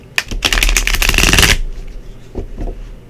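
Tarot cards being shuffled in a brisk, loud riffle lasting about a second and a half, close up, followed by a few softer card taps and handling sounds, no voices.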